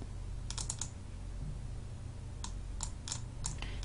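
Keys on a computer keyboard click in short quick bursts while text is entered into a spreadsheet, quiet and close, with pauses between the runs of typing over a steady low hum.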